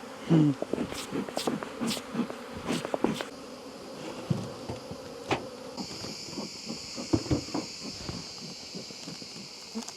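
Honey bees buzzing around an open hive during a honey harvest, a dense steady hum with sharper whining passes of individual bees flying close, plus occasional clicks and knocks of hive work.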